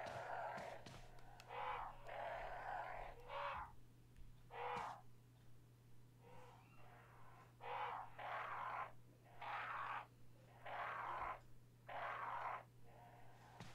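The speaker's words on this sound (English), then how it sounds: "And there's crows on the ceiling, that's what they call them. That's what the noise is." Crows cawing inside a mansion in Resident Evil, a series of harsh, distinct caws in repeated bursts with short gaps between them, set over a low, constant hum.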